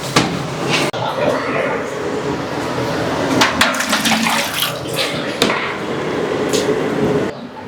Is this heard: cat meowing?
no